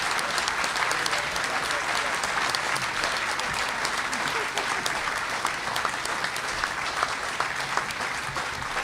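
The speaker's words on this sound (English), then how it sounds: "how about a big round of applause for all of our candidates?" An audience gives a big round of applause for the candidates at a lieutenant governor debate, sustained crisp clapping from many hands that holds steady throughout without pause.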